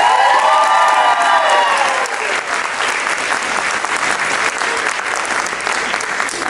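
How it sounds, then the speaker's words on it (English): Loud, dense applause from a large audience at a university Vietnamese student association culture show, with a few cheers and whoops early on, sustained steadily throughout. "please give them a big round of applause"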